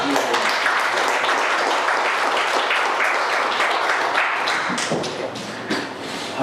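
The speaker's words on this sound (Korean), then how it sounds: "할렐루야 하는 마음으로 우리 박수로 합니다" A church congregation claps together after a call to praise with hallelujah, dense steady applause filling the room, thinning slightly toward the end, with no talk over it.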